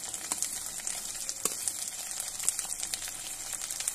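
Chopped tomatoes hit hot oil with fried ginger in a pan, giving a steady, moderately quiet sizzle with scattered crackles and a few sharper pops throughout, and no voices.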